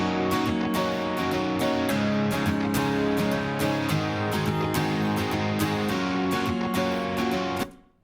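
Acoustic and electric guitars strum together in steady rhythmic chords, full and bright, before the sound drops away abruptly at the end.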